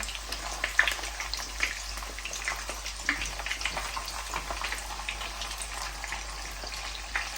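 Meatballs frying in oil over low to medium heat, a soft, steady bubbling sizzle with scattered small pops, faint and continuous throughout.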